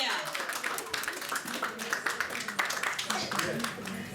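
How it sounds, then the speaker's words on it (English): Applause from a conference audience at a Marriott event, a dense patter of many hands clapping at moderate volume, with voices mixed into the crowd noise. "Give yourselves a round of applause."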